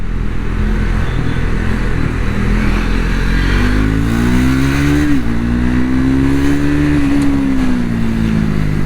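A Triumph Speed 400 motorcycle pulling away in city traffic in second gear, its engine note climbing loud and close, dipping at a shift, then rising again over steady road and wind rush.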